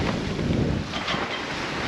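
Wind and rough seas around a 37-foot sailing yacht far out on the Pacific, a steady loud broadband rush of gusting wind and water with no let-up and no voices.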